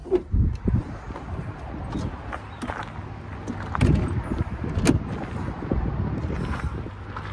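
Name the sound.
strong gusty wind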